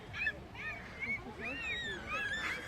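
A seagull calls back and forth with a person imitating gull cries outdoors, a series of short, bright squawking calls overlapping one another at close range over a low background rumble.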